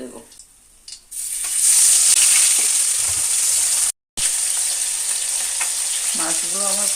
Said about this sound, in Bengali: এবার আমি বাকি মাছগুলোকেও দিয়ে দেব।